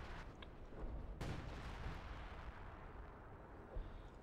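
Dense artillery barrage in the Company of Heroes 2 strategy game: rumbling booms and overlapping shell blasts, one heavy crack early on, rolling continuously at moderate volume.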